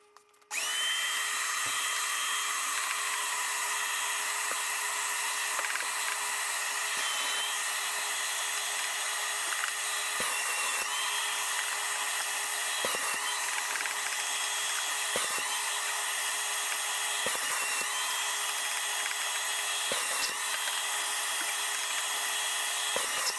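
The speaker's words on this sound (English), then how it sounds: "now that we have that all vacuumed out" A vacuum cleaner wand cleaning the coils of a Black & Decker portable air conditioner, running as a steady high-pitched whirring drone throughout with occasional brief knocks and changes as the nozzle moves across the coils, no talking.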